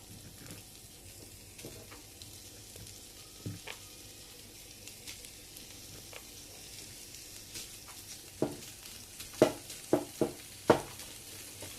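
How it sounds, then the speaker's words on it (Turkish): Turkish sucuk sausage slices fry in a pan with a steady soft sizzle, broken by occasional utensil taps and louder clicks near the end, and no voices. "Sucukları da aynı şekilde pişiriyoruz."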